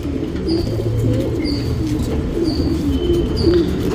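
Male tournament pigeon cooing close by, with repeated soft low coos under a steady background hum and occasional faint chirps.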